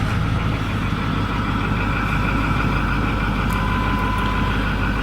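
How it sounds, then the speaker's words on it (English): A 2008 Ford F350 Super Duty King Ranch with a Powerstroke diesel engine runs with a steady, loud, low rumbling idle close by, unbroken throughout. "So now we'll go ahead and start the engine."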